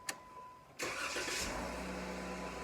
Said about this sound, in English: Now that we've got the car started